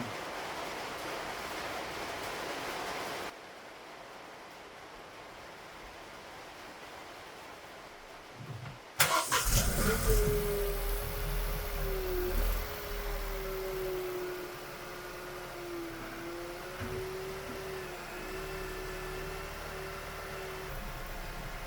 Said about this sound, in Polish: Niech sobie silniczek trochę popracuje.